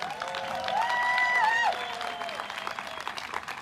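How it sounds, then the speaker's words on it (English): A crowd at a democracy march breaks into applause and cheers, a brief swell of clapping and raised voices that peaks and then fades back toward talk. "So give a cheer for Mary."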